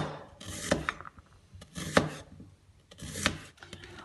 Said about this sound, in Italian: Ora inizio a tagliare le cipolle che ho sbucciato e lavato.